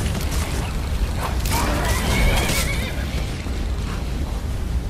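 A horse whinnies loudly in the video game Skyrim Remastered, over a steady, dense background rumble, its neigh rising and falling for a couple of seconds.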